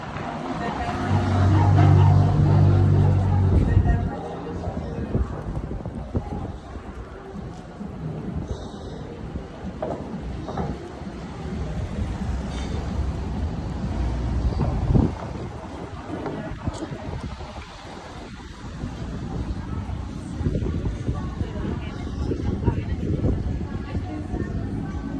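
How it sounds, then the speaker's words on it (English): Cold wind blows outdoors in Montreal, buffeting the microphone with a low rumble that is strongest at the start and continues steadily, with a passing car or traffic audible in the background. "the wind is blowing so cold"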